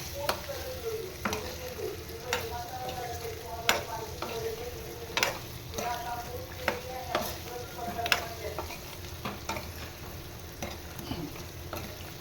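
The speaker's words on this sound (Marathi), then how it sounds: "ही वांगी मी छान अशी परतवून घेते मस्तपैकी" Eggplant pieces sautéing in a pan, with a steady sizzle of frying and repeated clinks and scrapes from stirring, close and continuous with no talk over it.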